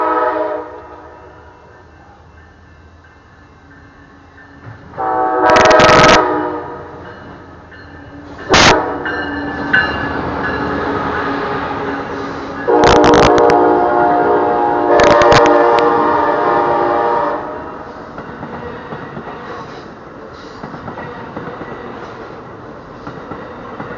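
An Amtrak train rumbles past nearby at the Ferry Street crossing in Martinez, California, its horn blaring in several long blasts, then the rolling noise fades into the distance.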